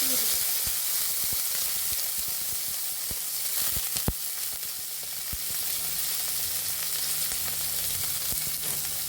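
Garlic and chopped onion fry steadily in oil as a dense, continuous sizzle with a few sharp pops and crackles, close and loud, with no voices.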